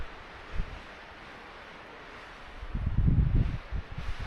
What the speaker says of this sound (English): Man, it is windy up here.